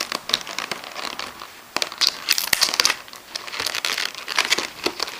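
Packing tape being pulled and peeled off a boxed camera case during an unboxing, a close, continuous crinkling and ripping with sharp crackles and tearing bursts, no voices.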